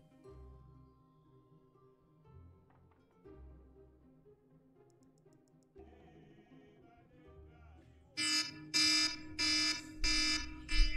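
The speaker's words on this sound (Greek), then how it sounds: "ακούστε λίγο το iPhone και ξυπνητήρι έχει" An iPhone alarm clock rings loudly in repeated bursts near the end, after a stretch of quieter background sound and music.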